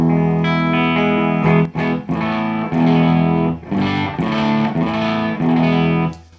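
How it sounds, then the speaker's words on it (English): Loud distorted electric guitar is played through an amp with a pedalboard tuner switched to true bypass, sustained chords in several phrases with brief gaps, close and alone. "here's what the amp sounds like with it in true bypass mode"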